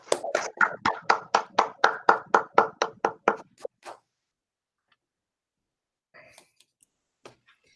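A single person claps about fifteen times in a steady, even rhythm, close and crisp, during a school board meeting held online for retiring staff. Silence follows, with a few faint clicks afterward.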